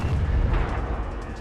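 A deep, booming explosion recorded for Call of Duty Modern Warfare II, a loud rumbling blast that rolls on and fades slowly, with no voices.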